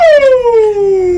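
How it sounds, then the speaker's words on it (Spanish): A police siren wails in one loud, clear tone that slides smoothly downward, close and with no other sound. "Cuando esa sirena hace así."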